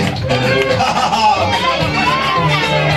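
Mourners at a family's funeral-withdrawal ceremony cheer and shout together, a loud, close crowd roar full of overlapping voices and whoops that stays constant for the whole stretch.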